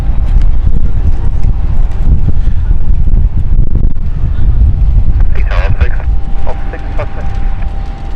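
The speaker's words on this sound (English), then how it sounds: "So windy today." Strong wind buffets an outdoor microphone in London, producing constant low rumbling and gusty thumps, with a few brief higher sounds passing through.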